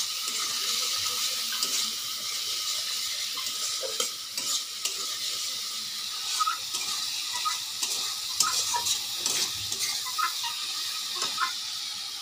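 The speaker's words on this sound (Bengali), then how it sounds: "এবারে একটুখানি জল দেব যাতে মশলাগুলো না পোড়া ভাজা হয়" A little water goes into spices frying in a pan for a fish and potato dish, bringing a crackling sizzle with scraping stirs, close and moderately quiet, steady throughout.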